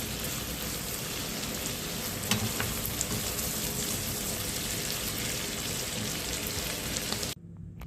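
Alexandrian-style liver frying in a pan, a dense, steady sizzle and crackle like heavy rain, close and continuous until it cuts off abruptly near the end.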